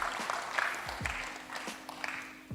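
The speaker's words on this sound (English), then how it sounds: "Please give our host, MD CEO, Richardson Oil and Gas, Mr. Akin Osuntoki, another round of applause." Audience at an oil and gas industry safety forum applauding the host, moderate scattered clapping with a faint sustained tone and low thuds underneath.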